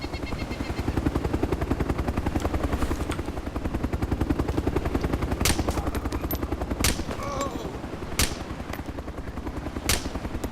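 A Mozzie helicopter in DayZ Mod (Overpoch) drones with a steady, rapid rotor thump as it approaches and sets down nearby, with sharp, sporadic gunshot cracks cutting through the engine noise.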